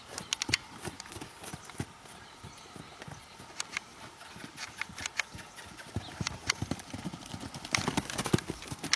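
A stallion's hooves clip-clop steadily on hard ground, a brisk uneven rhythm of sharp knocks, close by, with faint voices now and then.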